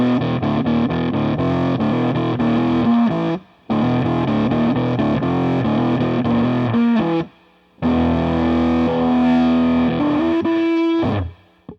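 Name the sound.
digital bit-crushing fuzz pedal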